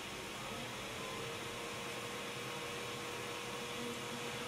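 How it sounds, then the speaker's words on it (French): The cooling fans of a Tronxy X5SA Core XY 3D printer run steadily, giving a constant, close broadband whir with a faint tonal hum, with no talk over it. "On a la possibilité par contre de contrôler tous les ventilateurs de la machine"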